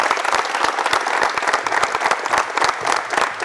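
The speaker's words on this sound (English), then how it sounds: "let's give a round of applause for Mr. Johnson" An audience applauds for Mr. Johnson, dense crisp clapping from a crowd, loud and close, sustained without a break.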